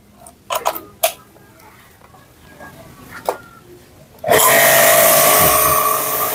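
An Orion Superjet 100S jet cleaner with a multifunction nozzle opens up after a few sharp clicks and handling knocks, then blasts a loud, steady, close spray hiss that holds for about two seconds.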